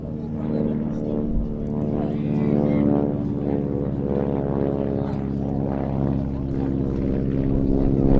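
Propeller aeroplanes fly at an airshow, giving a steady, continuous droning hum of engines and airscrews that holds at an even loudness throughout.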